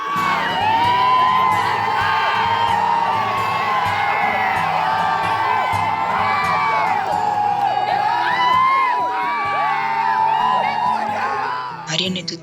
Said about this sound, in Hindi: Everyone was shouting and cheering.